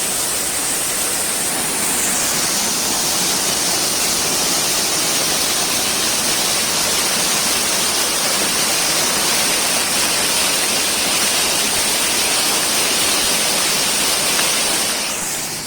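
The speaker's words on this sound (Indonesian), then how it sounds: "Sebentar saja kita nikmati suasana air terjun di sini" Steady broadband roar of the Coban Ngepung waterfall at Puthuk Gragal, a continuous close rushing of falling water with light drizzle, unbroken and loud throughout with no voices.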